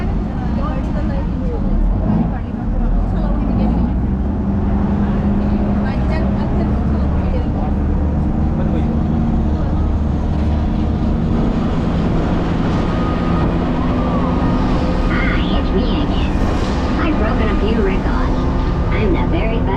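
Aquaduck amphibious vehicle driving along the Gold Coast Highway, a loud continuous engine and road rumble throughout, with a voice speaking over it.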